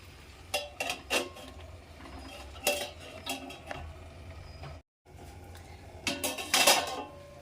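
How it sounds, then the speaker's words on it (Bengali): A metal lid clanks onto a pot of cooking greens, with several sharp clinks and scrapes of metal on metal among quieter kitchen handling, close and fairly soft. "আর একটু সেদ্ধ হবে, ঢাকা দিয়ে দিই আমি।"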